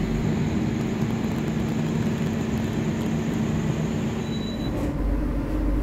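The KA Lodaya train pulls out of Tasikmalaya station at night, producing a steady, loud low rumble and broadband rolling noise with a constant engine drone and a faint brief whine near the end, no voices.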